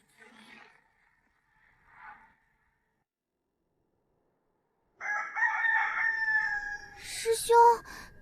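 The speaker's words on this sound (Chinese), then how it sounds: "师兄，现在才半夜，哪来的鸡叫？" Rooster crowing at midnight, one long, loud, near crow rising and breaking at the end, heard after several seconds of near silence with faint earlier sounds.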